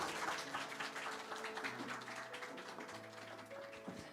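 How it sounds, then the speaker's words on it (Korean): Applause from a festival audience after a classical ensemble's performance, a faint, continuous spatter of clapping heard from a distance over a low hum, with no voices. "우리에게 힐링한 시간을 선사해 주신 꾸무 앙상블에게 더 큰 박수 한 번 더 부탁드립니다"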